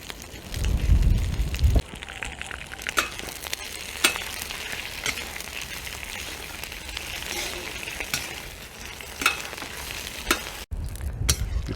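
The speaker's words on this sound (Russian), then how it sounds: "Итак, казан на огне. Отправляем свиное сало." Pork fat sizzles and renders in a kazan over an open campfire, a steady crackling fry with sharp pops and occasional stirring scrapes, with heavier rumbling at the start and end.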